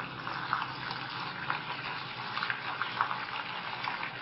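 Minced-meat pakoras, some plain and some donut-shaped, deep-frying over a low flame in hot oil, giving a steady close bubbling sizzle with faint crackles throughout.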